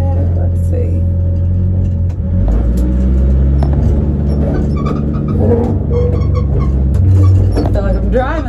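An old farm truck is driven, its engine giving a loud, steady low rumble with some rattling from the cab and faint voices over it.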